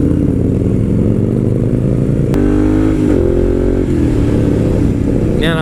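A Moto Guzzi motorcycle engine revs loudly and continuously while riding, its pitch climbing and dropping through shifts with steady wind rumble underneath.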